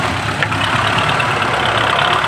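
A tractor engine runs at a steady idle-like rumble while a trolley is loaded with dug soil, loud and close, a constant churning drone with no talk over it.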